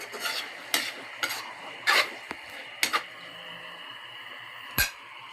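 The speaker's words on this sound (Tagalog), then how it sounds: "Haluin natin." Chicken liver with soy sauce is stirred in a pan, a utensil scraping and clinking against the metal in several separate strokes over a faint sizzle.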